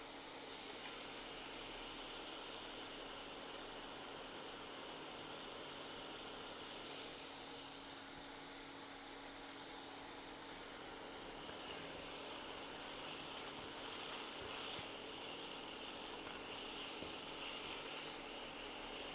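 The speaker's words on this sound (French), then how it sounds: "on va laisser revenir un petit peu les oignons, toujours en remuant pour pas que ça accroche" Chopped onions sautéing in olive oil in a pan, stirred now and then while cooking Indian-style rice; a steady, close sizzling hiss that swells louder toward the end, with no talking.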